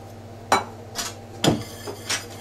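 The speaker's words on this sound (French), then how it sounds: "Donc vous mélangez maintenant les ingrédients secs, c'est-à-dire le cacao en poudre," Dry ingredients, cocoa powder and flour, are stirred in a bowl for a chocolate cake, giving a few distinct clinks and knocks of a utensil against the bowl in an uneven rhythm, close and moderately loud.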